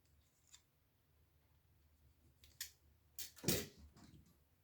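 A cable is snipped inside a Pioneer SX 1250 stereo receiver during restoration: a few quiet clicks, then a sharp close crunch of a cut and a short rustle, otherwise near silence.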